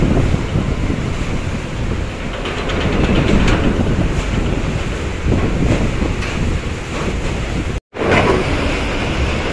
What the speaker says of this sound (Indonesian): Berlayar dengan KMP Batu Mandi.